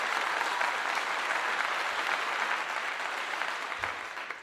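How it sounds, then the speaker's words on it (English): Continuous applause, dense and evenly sustained, stays loud and close with no talk over it, easing slightly toward the end. "Clap to you."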